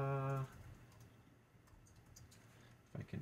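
Typing on a computer keyboard while working in Photoshop, with faint, sparse key clicks under quiet room noise, a short tone at the start and a couple of louder taps near the end.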